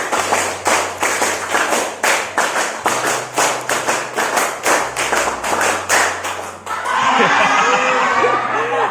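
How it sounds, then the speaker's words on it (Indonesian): A class of students in an Indonesian classroom claps together in crisp, loud, unison rhythmic rounds, with many sharp hand claps in a steady pattern. The clapping then breaks off into chatter and giggling. "Tepuk 5 kali."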